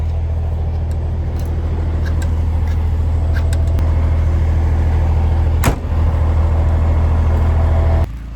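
A diesel truck with a new exhaust, after a bad oil leak, idles loudly close by with a deep steady rumble, followed by a sharp door-like bang and a drop in sound at the end.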